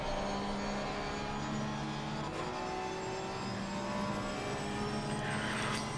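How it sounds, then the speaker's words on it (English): A flat-six race car engine in a racing video game at Suzuka drones steadily at high revs, with shifting pitch and gear changes, loud and continuous throughout with no talk. "I do love the sound of that flat six engine as well"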